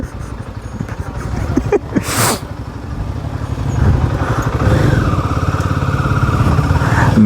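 A Royal Enfield motorcycle ridden on a road among people, its steady low engine thump running throughout and rising slightly partway, with brief speech and background noise.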